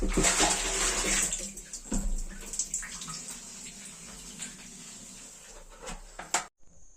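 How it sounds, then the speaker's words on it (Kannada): Water rushes out of a water tank being emptied during cleaning. The steady gush is loudest in the first seconds, then thins and continues more quietly before cutting off abruptly at the end. "ನೀರೆಲ್ಲ ಖಾಲಿ ಮಾಡ್ಕೊಂಬ"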